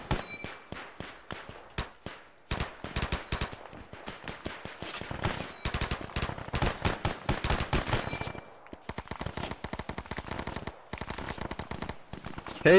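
Sustained suppressive gunfire in the video game Arma 3: rapid automatic bursts and single cracks in dense, loud clusters, with a brief lull before the firing resumes at a slightly lighter pace.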